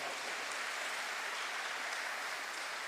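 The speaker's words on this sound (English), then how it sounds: "let's have a huge round of applause" Audience applause at an event in a hotel convention hall, a dense continuous clapping wash that stays loud and even from start to finish.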